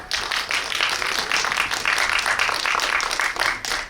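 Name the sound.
applause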